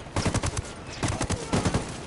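Gunfire in the video game Ghost Recon, rapid bursts of automatic shots in three short clusters with brief gaps between, close and punchy.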